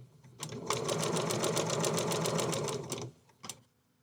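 A sewing machine stitches a log cabin quilt block in one steady, close run of rapid needle strokes lasting about two and a half seconds, followed by a couple of brief clicks.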